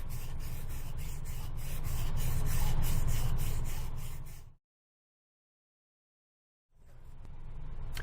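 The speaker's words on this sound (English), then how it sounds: "You can sand that in the round all day long without squaring that off." Wood carving being hand sanded in the round with a Jerry's Flex-sander, a steady close rubbing and scratching that swells in the middle, cuts out to silence for about two seconds, then resumes.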